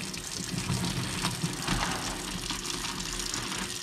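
Pasta water pours from a cooking pot into a sink in a continuous, moderately loud gushing splash that lasts several seconds, with no talking.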